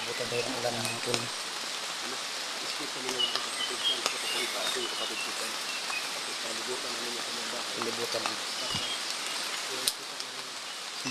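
A steady hiss of rain falls throughout, with someone speaking briefly over it and a few faint bird calls in the background.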